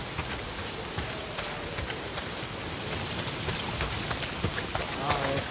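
Heavy rain pours steadily in the Days Gone game, a dense, even hiss of drops hitting surfaces that runs through the whole stretch.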